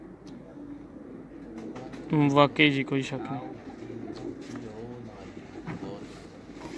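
Racing pigeons in a champion loft coo softly in a steady background murmur, while someone speaks over them and a few louder voiced phrases rise briefly in the middle.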